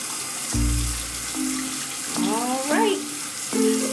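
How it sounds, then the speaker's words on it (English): Tap water runs in a sink to rinse off homemade potassium-hydroxide liquid soap, a steady close stream in short bursts, with faint clinks and squeaky tones between the flows and no talking. "Clean rinse."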